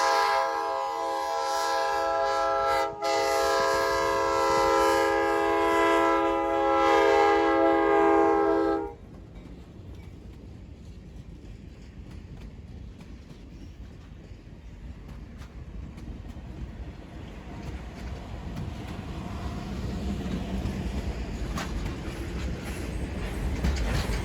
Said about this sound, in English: specifically 304 with its double K5LA and P5 horn combo